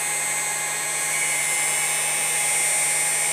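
A 6040 CNC router spindle spins steadily at about 9,200 RPM, giving a continuous high-pitched electric whine with a low hum beneath, close and constant throughout.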